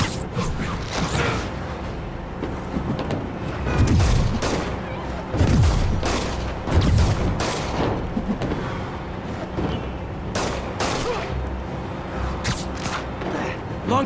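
Rapid bursts of gunfire in the video game Marvel's Spider-Man ring out over a busy mix of mechanical clatter and engine noise, the shots sharp and repeated in irregular clusters throughout.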